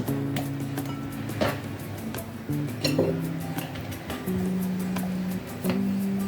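Knife chopping a cucumber into large chunks for a salad, with irregular sharp taps on a board and a faint clink, close by and clear.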